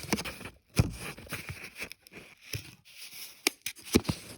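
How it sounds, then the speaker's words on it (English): Pages of a new storybook being turned by hand, several short papery crinkles and flicks at irregular intervals, close and fairly quiet with brief pauses between rustles. "why won't this page turn?"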